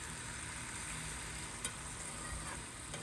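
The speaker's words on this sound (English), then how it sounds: "I've sauteed these vegetables, and the onions, jalapenos, and orange peppers until they're soft" Onions, jalapenos and orange peppers sautéed soft sizzle steadily in a pan on a smoker, a soft continuous frying hiss with faint stirring clicks, fairly quiet and without voices.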